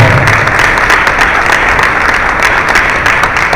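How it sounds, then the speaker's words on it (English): Loud, dense applause fills a news conference hall, a continuous roar of many hands clapping close up with no break and no talking. "Give him and the CBC an applause."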